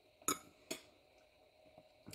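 Cutlery clinks faintly against a plate while breakfast quiche is eaten, two bright taps close together followed by softer scrapes and a last light clink, quiet and alone.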